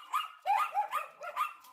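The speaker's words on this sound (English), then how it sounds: "Alarm barking, well," A dog alarm barking in a quick run of about five or six sharp, mid-pitched barks, fairly close and alone with no voices, the rhythm slightly uneven.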